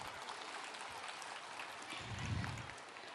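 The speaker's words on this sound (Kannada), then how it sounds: "ಸೊ ಜೋರಾಗಿ ಚಪ್ಪಾಳೆ ಒಂದು ಸತಿ ಮತ್ತೆ ಬರಲಿ." Audience applause at a school graduation ceremony, a steady wash of clapping that swells slightly toward the end, heard from a distance and fairly faint.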